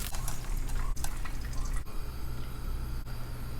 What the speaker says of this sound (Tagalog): Pinagulong ko po sa cornstarch itong ating tokwa para po mawala ang tubig. O iprito natin.